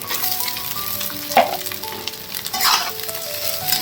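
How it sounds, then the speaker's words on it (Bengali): Rice being added to a pan of spices and stir-fried, with a steady close sizzle under scraping and stirring strokes and a few louder bursts as the rice is tossed. "এবার আমি এর মধ্যে রাইসটা দিয়ে দেব"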